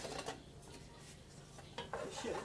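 A metal spoon scraping and clinking against a pan while stirring butter for a chicken dinner: a few quiet, close scrapes and taps at the start and end, with no talk.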